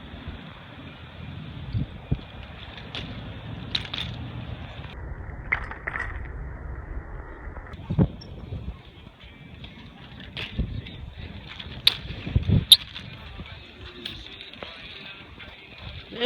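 Wind blowing outdoors during a bike ride, a steady broadband rush with gusty buffeting on the microphone and occasional brief knocks and rustles, fairly loud and continuous throughout.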